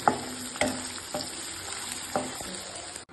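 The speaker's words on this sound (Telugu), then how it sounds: "దొండకాయ కలుపుకోండి." Chopped ivy gourd is stirred through rice in a hot cooking pan, with a steady background sizzle and about five distinct scraping strokes of the spoon at a relaxed, uneven rhythm, close and clear.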